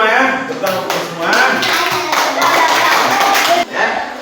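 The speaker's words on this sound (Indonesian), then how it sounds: "tepuk tangan dulu untuk kita semua ya" A crowd claps together in a dense burst of applause, briefly dipping near the end, with talking mixed in.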